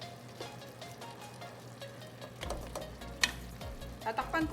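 A pot of chicken gizzard and liver stew in tomato sauce with red bell pepper and garbanzos simmers with soft bubbling and sizzling, broken by stirring and clinks of a utensil against the pot.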